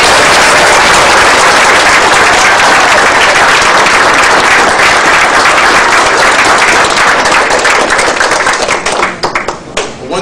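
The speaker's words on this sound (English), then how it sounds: "You all join me in a great round of applause for them." Loud, sustained applause from guests at a 50th wedding anniversary party, many hands clapping in a dense wash that carries on for several seconds before thinning into scattered claps at the end.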